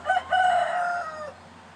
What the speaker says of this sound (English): sorry about that daggone rooster